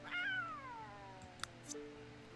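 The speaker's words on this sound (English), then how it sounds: "I'm going to give her a slightly higher meow" A high, drawn-out cat meow from The Sims 3, one clear call that slides downward in pitch over about a second, followed by soft game ambience with a couple of faint clicks.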